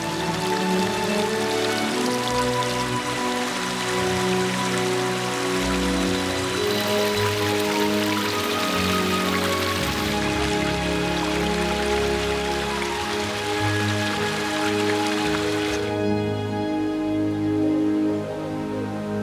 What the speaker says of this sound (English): The streams fill with rainwater and bring a magical touch to the forest with numerous waterfalls.